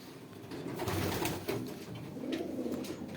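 Pigeons in a pigeon loft cooing in soft, low, continuous murmurs, several birds close together, with a rustling background and no talk.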